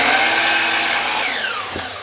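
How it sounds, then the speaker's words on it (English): A power saw cuts about half an inch off the factory end of a 1x4 board, a loud close whine that carries on for a second and then drops in pitch as the blade slows to a stop. "First thing I'm going to do is cut off the factory end"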